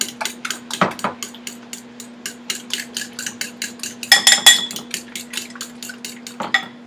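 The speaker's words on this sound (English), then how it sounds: "I'm just going to whisk that again." Eggs whisked in a bowl for a pan-cooked egg dish: a rapid, steady train of light metallic clicks and taps from a whisk against the bowl, close and fairly loud, with a brief burst of busier clatter partway through and no talk.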